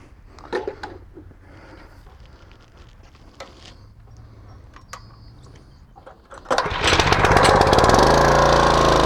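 Gas pressure washer used with a surface cleaner, its engine pull-started: faint clicks and rattles come first, then the engine catches and runs loud and steady, close by, for the final few seconds.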